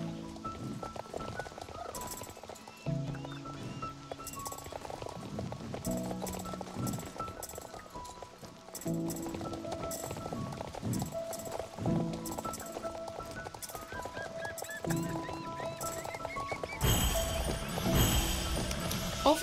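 Horse galloping through a barrel race in the Star Stable video game, rhythmic hoofbeats repeating in bursts with pauses between runs, mixed with game music and a louder swell near the end.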